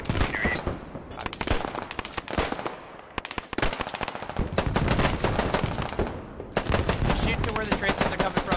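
Continuous close, loud automatic gunfire in the video game Squad, with dense rapid bursts of shots layered from several weapons during a firefight, with brief voices mixed in.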